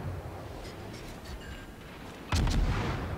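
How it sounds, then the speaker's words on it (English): Heavy naval guns of the battleship Tirpitz firing in World of Warships, a single deep booming blast arriving after a stretch of low ambient rumble and faint distant shots. "Well, apart from the guns from the Tirpitz"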